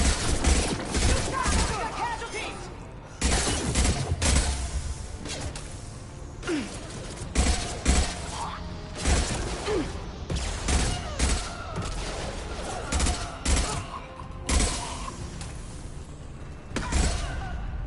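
Repeated bursts of gunfire ring out in a firefight in Mass Effect 2, with sharp shots and rapid volleys crackling in irregular clusters at close range, some faint muffled voices under the noise.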